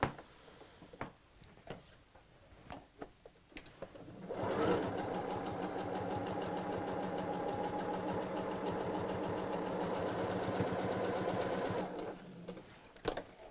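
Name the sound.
sewing machine stitching straight down both sides of fabric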